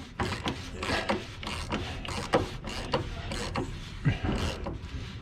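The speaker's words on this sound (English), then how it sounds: "Then I'll get the torque wrench. We'll torque this back to the proper setting." Mechanical ratcheting from a torque wrench tightening the fuel filter on a 2023 Cadillac Escalade 600D diesel, a steady run of close, rapid clicks and rasps with no talking.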